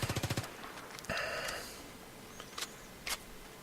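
A short full-auto burst of about seven rapid shots from an M16A3/M416 rifle fired from the hip in Battlefield 3, followed by a few faint mechanical clicks and clacks.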